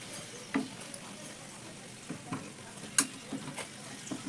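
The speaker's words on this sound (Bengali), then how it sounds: "উল্টে পাল্টে একটু লালচে করে এগুলোকে ভেজে নেব।" Wheat-flour breakfast snacks frying in oil, a faint soft sizzle with a few scattered pops and light clicks of turning, quiet and without speech.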